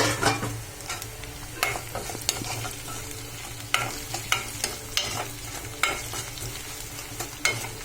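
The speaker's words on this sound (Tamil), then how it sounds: "இப்போ இதில் கொஞ்சோண்டு மஞ்சத்தூள் போட்டு ஒரு வதக்கிட்டு" Onions sauté with a little turmeric powder in a pan for a Tamil brinjal thokku, with a steady sizzle under repeated scraping and stirring strokes of a spoon, close and moderately loud, with no voices.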